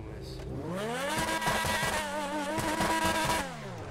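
A LaFerrari in a racing video game revs hard, its engine pitch climbing and falling in several quick surges over a steady background hum, loud and close.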